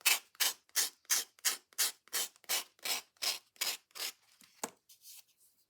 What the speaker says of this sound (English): So I am going to sand this.